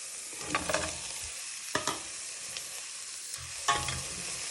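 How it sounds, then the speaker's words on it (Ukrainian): Onion, garlic, carrot and potato frying in a pan, a soft continuous sizzle broken by a few scraping stirs, close and fairly quiet with no voices. "Гарно все підсмажуємо."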